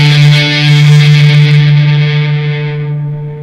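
A sustained electric guitar note rings out through reverb and tremolo pedals, thick with effects and echo, slowly decaying over a few seconds with no other sounds.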